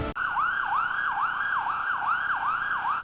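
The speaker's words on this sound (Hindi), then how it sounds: "सायरन बजता है। एम्बुलेंस हॉस्पिटल के गेट पर रुकती है।" An ambulance siren wails loud and near in a steady repeating up-and-down cycle, continuous throughout with no talk over it.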